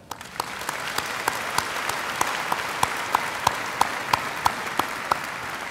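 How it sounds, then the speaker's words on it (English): Sustained audience applause at the Millersville University 2014 winter commencement, a steady wash of many hands clapping with a few sharper claps standing out above it. "Please give them an applause."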